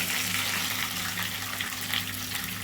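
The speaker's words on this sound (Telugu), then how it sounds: "ఒక్క నిమిషం పాటు మామిడికాయ తురువును కూడా ఆయిల్లో మగ్గనివ్వాలండి" Grated raw mango and curry leaves frying in hot oil in a pan, giving a steady, close, hissing sizzle that carries on throughout with no talk.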